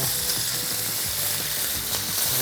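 Food sizzles steadily in a hot pan right after being turned over, a continuous close frying hiss with faint scraping taps from a utensil, no voices.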